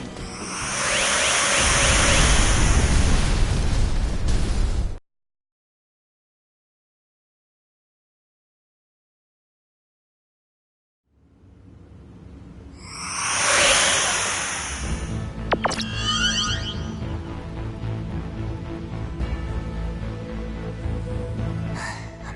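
An explosion in the video game Star Ocean: Integrity and Faithlessness erupts as a loud, dense roaring blast for several seconds. It cuts to silence, then a rushing swell rises into rumbling, crackling debris noise.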